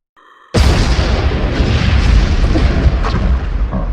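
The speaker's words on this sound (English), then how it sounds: "Explosions." After a brief faint tone, a loud explosion bursts in and rumbles on as a sustained roaring blast with crackling debris.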